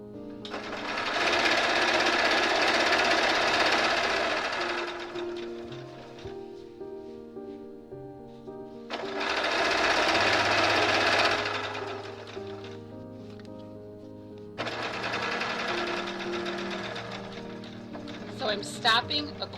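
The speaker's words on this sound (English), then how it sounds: "I want to stitch my binding on with a 1/4 inch all the way" Sewing machine stitching binding onto a T-shirt memory quilt: three long bursts of fast, buzzing stitching separated by quieter pauses, heard up close with a faint mechanical hum between runs.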